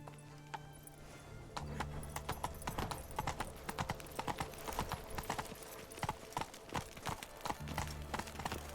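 Steady clip-clop of horse hooves under a rider in The Witcher 3, a brisk, even rhythm of sharp close hoofbeats that runs throughout, with a short whinny early on and no talk over it.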